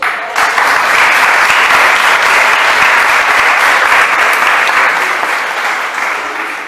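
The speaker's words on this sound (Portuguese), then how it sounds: "Aplauda o Senhor." A church congregation applauds together in a sustained, loud wave of clapping that holds steady and then tapers slightly toward the end, with no speech over it.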